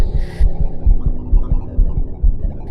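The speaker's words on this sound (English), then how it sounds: "the hellish tattoo of the heart increased" Heartbeat sound effect, deep low thumping in a steady paired rhythm, loud and close with a faint hum beneath and a brief higher noise at the start.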